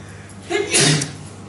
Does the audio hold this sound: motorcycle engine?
no